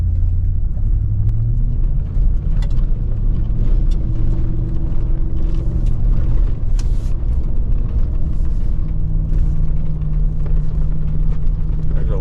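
Heavy low engine rumble from a gas-powered Ford Super Duty truck towing a heavy load in manual first gear, steady and close throughout with a few faint higher clicks and rattles.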